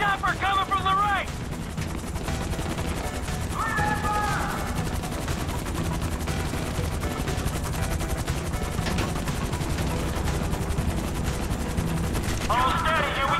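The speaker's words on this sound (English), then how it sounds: "More bullets in the chopper coming from the right." Rapid automatic gunfire is aimed at a helicopter during the Merryweather Heist freighter mission of GTA 5 on PC, sounding as continuous dense rattling bursts over a rotor drone, with someone talking in short bursts at times.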